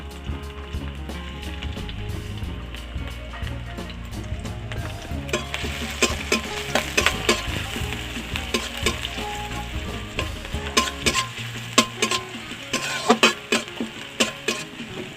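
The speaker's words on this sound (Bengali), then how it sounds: "পেঁয়াজ আর লঙ্কাটাকে তেলে একটু ভালো করে ভেজে নিই" Chopped onion and green chilli fry in hot oil with a loud, continuous sizzle, while stirring and scraping clatter in irregular bursts over a low background hum.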